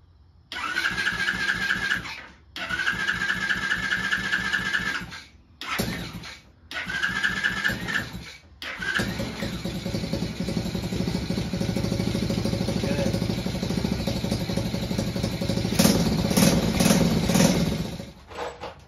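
A Chinese ATV quad engine, rebuilt from a cheap purchase, is cranked in three short starter bursts with gaps, then catches and settles into a steady buzzing idle that swells slightly louder near the end.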